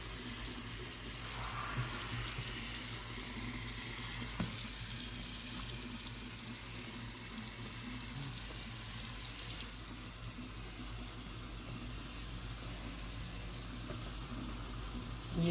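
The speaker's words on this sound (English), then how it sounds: "you run some hot water, you soak a rag, and you put it on there" Hot water runs from a tap in a steady, unbroken stream, soaking a rag for cleaning bugs off a motorcycle helmet and GoPro, dropping slightly in level partway through as the flow changes.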